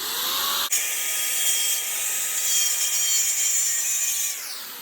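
An angle grinder cuts metal for an incinerator burn barrel, giving a loud, sustained high-pitched whine that starts sharply, holds steady for about four seconds, then spins down.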